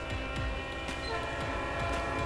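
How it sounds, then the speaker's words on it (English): A Leslie S3L air horn on a locomotive in a railroad video game gives a steady, continuous chord that holds loud throughout over a low rumbling engine, with no talking. "that is a Leslie S3L air horn"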